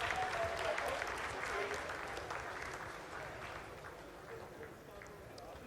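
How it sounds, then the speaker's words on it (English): Applause fills mission control during the Chandrayaan-3 lunar landing's vertical descent phase, a dense broadband clapping wash that stays loud and steady before easing slightly, with voices mixed in underneath. "Lot of applause indicates that till now the performance has been nominal."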